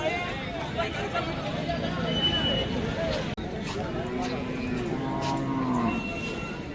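Cattle, calves and bullocks at the Monday Belhe bullock market give low moos amid a steady crowd babble, with a person talking nearby throughout.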